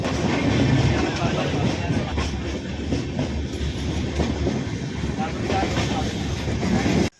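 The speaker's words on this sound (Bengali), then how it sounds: "এই মুহূর্তে আমাদের ট্রেন ছাড়লো বোলপুর শান্তিনিকেতন স্টেশন থেকে" Uttar Banga Express rolling onward after leaving Bolpur Shantiniketan station on the Kolkata to Cooch Behar run: a loud, continuous rumble of wheels and carriages, steady throughout with no breaks.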